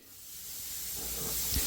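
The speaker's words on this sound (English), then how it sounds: "I use spray on semi-gloss lacquer because it's easy to apply" Semi-gloss lacquer sprays from an aerosol can onto the underside of a CNC-carved wooden table as a finish coat: a steady, close hiss that swells gradually in loudness, with no voices.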